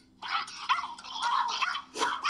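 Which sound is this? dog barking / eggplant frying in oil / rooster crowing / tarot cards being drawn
dog barking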